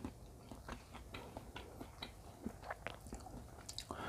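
Someone eating bamboo shoot soup with fresh herbs and vegetables, with close, quiet crunchy bites and steady chewing throughout and no talk.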